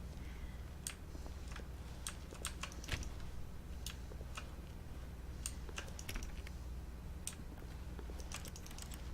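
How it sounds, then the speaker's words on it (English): Sharp, keyboard-like clicks from touching doors in The Stanley Parable, a video game, tapping out irregularly in quick clusters across the stretch, fairly close and clear over a low steady hum. "How come the doors, when you touch them, they sound like keyboard clicking?"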